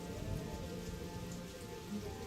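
Steady rain patters on a surface in a continuous, even wash with a low rumbling undertone, a storm-night sound for a told story.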